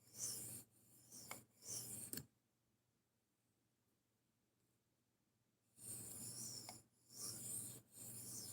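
A knife is drawn across a sharpening stone in rhythmic raspy strokes, several close passes, then a long quiet pause before more strokes resume.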